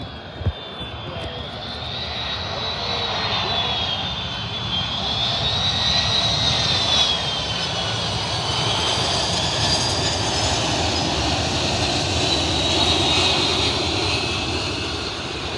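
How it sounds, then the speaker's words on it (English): A DC-10 jet airliner landing in Miami roars steadily overhead, engine noise swelling with a whining high tone drifting in pitch, continuous and fairly close. "You barely see a whole Dc10 doing a better landing in Miami."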